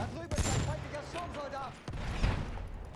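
Gunfire in the Battlefield 1 battle rattles in rapid bursts around the player, loud and close, mixed with booming impacts, a short gap and renewed firing, with voices from the game underneath.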